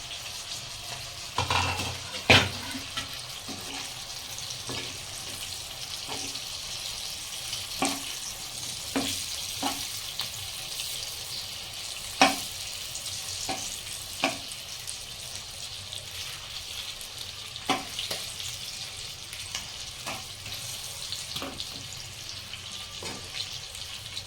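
Stuffed chillies fry in a pan with a steady, close sizzle, broken by occasional sharp clicks and scrapes of a utensil stirring them, with no talking.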